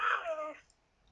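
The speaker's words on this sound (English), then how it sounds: "That hiccups. Tiny cat hiccups." A tiny hiccup from a virtual cat in the video game Catz 4: one short, bright squeaky burst that fades after about half a second into near silence.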